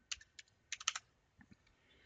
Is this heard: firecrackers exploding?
no